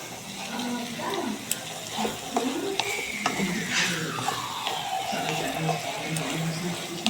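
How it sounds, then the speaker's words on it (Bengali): Pasta stir-frying in a pan over a lowered flame, a soft sizzle with scattered scraping and stirring clicks, moderately quiet and close, alongside a drawn-out falling whistle-like tone in the background. "এবার আমি গ্যাসটা কমিয়ে হালকা করে ভাজা ভাজা হতে থাকুক।"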